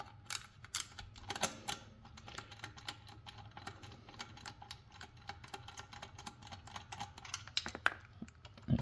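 A Torx security bit backs two screws out of the accelerator pedal assembly of a 2004–05 Cadillac CTS-V, producing close, dense runs of small ratcheting clicks and ticks that continue steadily for several seconds, with a few sharper metallic snaps and no talking.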